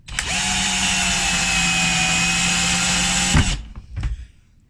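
A Black and Decker 18v combi drill labours to drive a screw, its steady whine holding strong for about three seconds before cutting off, followed by a couple of brief mechanical knocks, loud and close.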